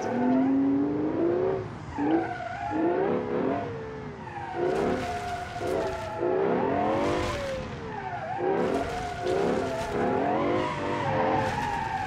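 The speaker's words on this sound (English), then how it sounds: "Using first if you want to accelerate hard and smoke tires." Tires on a V12-engined muscle car squeal and scrub under hard acceleration, with repeated wavering screeches rising and falling over a rough engine note, loud and close, with no voices.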